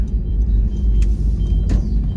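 A car drives through busy high-season traffic in Thailand, a steady low engine and road rumble heard from inside, with faint passing vehicle noises and no talking.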